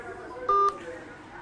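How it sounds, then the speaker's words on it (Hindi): A single DTMF keypad tone sounds briefly and loudly over a steady low background murmur, from a telephone number being dialed to hospitals in Delhi. "दिल्ली के अस्पतालों के नंबर डायल किए"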